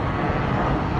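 A jet airliner passing very low overhead on final approach to an airport beside a river, a loud continuous engine roar filling the moment without any voices.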